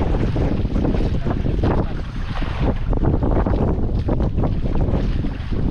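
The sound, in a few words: strong wind blowing into the microphone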